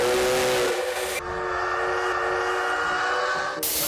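Steam hisses and roars from a classic steam locomotive inside a railway depot workshop, a loud continuous blast with a tonal edge that drops briefly and then surges again, close by with no voices.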